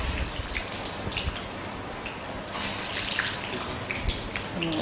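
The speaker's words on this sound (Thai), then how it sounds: "พอน้ำมันร้อนแล้วนะคะเดี๋ยวเราจะหลีไฟสักนิดหนึ่งนะคะแล้วก็ใส่ลงไปทอด" Chicken pieces frying in hot oil in a wok, a steady dense sizzle and crackle that runs without break and fairly close, with no talk over it.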